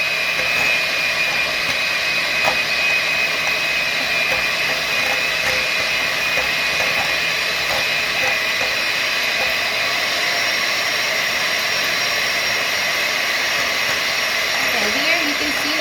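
Electric mixer whipping eggs for molten lava cakes, running steadily from medium up to high speed, a loud continuous whirring drone that fills the whole stretch without pause.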